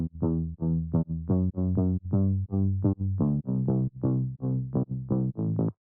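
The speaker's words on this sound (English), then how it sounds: "Right, so for bass, we got this fat boy right here." Fat bass synth from a future house track, playing a bouncy line of short repeated notes that follow a vocal melody, steady and fairly loud, with nothing else heard.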